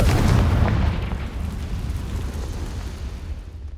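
Confringo fire spell blast in the video game Hogwarts Legacy, a single heavy booming explosion at the start that fades into a long rumbling, crackling tail.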